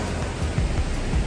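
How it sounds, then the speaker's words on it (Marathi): Steady rain falls in the open at a scenic spot during a monsoon shower, a continuous close patter with soft low thuds throughout the short stretch and no talking. "पाऊस चालू आहे."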